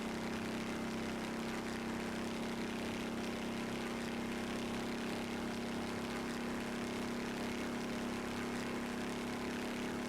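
A Gavril T-Series truck at very high speed in the BeamNG.Drive video game gives a loud, steady engine drone with a strong hum that stays level throughout, with no talking.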